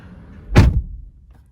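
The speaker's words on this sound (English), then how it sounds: "the door closes with a proper thud" A single solid thud of a 2023 Skoda Slavia car door shutting, close and loud, heard from inside the car in an otherwise quiet space.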